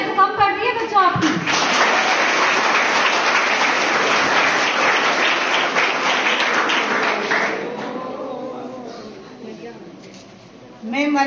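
Children in an audience at a Republic Day celebration applaud in a dense, lively burst of clapping that holds steady for several seconds before fading out, with a voice speaking afterward.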